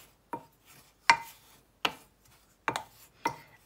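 Dry spices being stirred together by hand for a Jamaican all-purpose no-salt seasoning blend, giving five sharp, close scraping knocks spaced roughly half a second to a second apart, with quiet gaps between.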